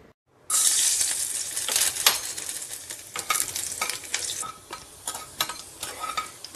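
Khichdi cooking in a pot, with continuous loud sizzling and frying and repeated scraping stirs and light clinks, heard close and alone with no voices.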